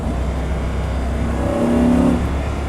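An ABT XGT, a track-focused Audi R8 with a V10, revs under load, its engine note rising and swelling to a loud peak near the end over steady road and cabin rumble.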